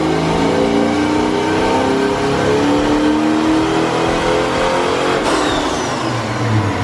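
A supercharged Ford Mustang GT revs hard on a dyno, its engine climbing in a steady, loud, continuous pull that holds for several seconds before a sharp shift near the end, heard up close with no talking.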